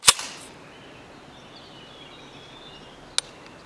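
A sharp trigger click on an AR15-9 S4F Schmeisser rifle sounds up close, followed after about three seconds of quiet by a second crisp metallic click as the action is recocked.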